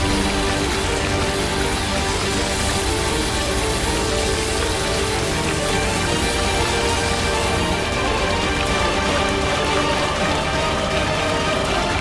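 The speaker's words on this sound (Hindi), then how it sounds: "2 मिनट भी नहीं रुकी ये बारिश।" Heavy rain pours down in a dense, unbroken hiss, loud and steady throughout, like a downpour drumming on surfaces.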